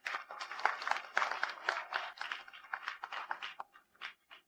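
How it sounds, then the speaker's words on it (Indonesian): Wedding guests applaud as the bride and groom are welcomed, with bursts of clapping that rise and fall unevenly, growing sparser toward the end. "mari sambut pasangan pengantin dengan tepuk tangan meriah."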